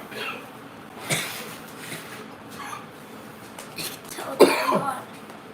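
A person coughs a few times, with throat-clearing bursts spread across a quiet background.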